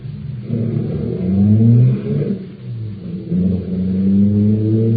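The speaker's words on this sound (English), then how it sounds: "I'll start the car." A car engine starts and pulls away as a sound effect in an old radio crime drama, a low rumbling engine rising through a couple of revving swells, close and alone, with no talk.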